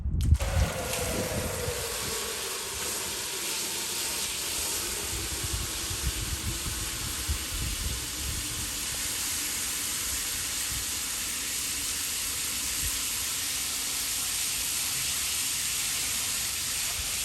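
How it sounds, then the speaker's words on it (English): A Thermomate propane tankless water heater running on high pours a steady stream into a 5-gallon bucket, a continuous close hiss and gush of water that holds constant throughout with no talking. "we're gonna show you how quick it fills a 5-gallon bucket. This is on high."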